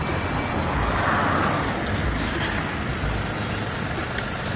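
Steady idling engine of a Maruti Wagon R LXI running on CNG, heard up close beside the radiator as an even, continuous broadband rumble with a constant mechanical hum and no talking.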